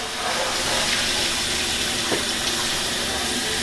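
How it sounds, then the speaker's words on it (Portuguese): Tap water runs steadily into a cooking pan being rinsed at a hotel kitchen sink in Las Vegas, a loud, continuous close-up rush with no talking. "Deixa eu passar uma água."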